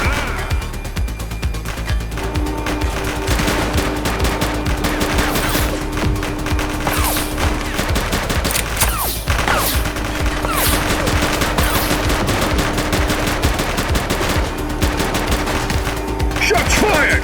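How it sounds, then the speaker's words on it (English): Gunfire in The Precinct video game, with rapid sustained bursts and volleys of shots crackling over a dense, loud mix of sirens and action noise, with shouted voices at moments. "Shots fired!"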